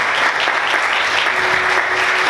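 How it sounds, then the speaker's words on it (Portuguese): Vigorous applause from a church congregation praising Jesus, a thick continuous roar of many hands clapping, close and steady throughout. "Você pode aplaudir Jesus bem forte?"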